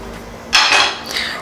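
Cooled roasted almonds are poured into a KitchenAid Artisan blender jar, a sudden loud clattering rush of nuts against the container that tapers off, then a smaller second spill, close up.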